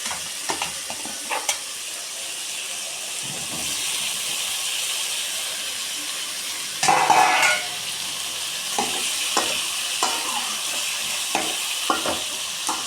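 Onion and tomato fry in a pan with a continuous sizzling hiss, broken by occasional stirring scrapes and a brief louder burst partway through, heard alone with no talk.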